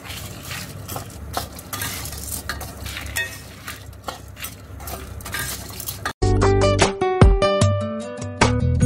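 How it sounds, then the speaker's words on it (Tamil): Two kinds of lentils dry roasted together in a pan while preparing coconut podi: a steady scraping, rustling stir with scattered clinks of a metal spoon on the pan, then louder ringing metallic knocks near the end. "ரெண்டு பருப்பையும் ஒன்றா சேர்த்து வறுக்கிறேன்."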